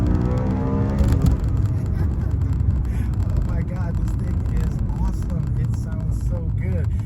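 A BMW M3 (E90) V8 engine roars loudly and continuously, rising in pitch as it accelerates, with a deep rumbling drone and road noise heard from close by.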